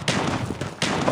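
Sniper rifle shots in the mobile shooter game Call of Duty Mobile, two loud, close, broadband reports about three quarters of a second apart, each with a short decaying tail.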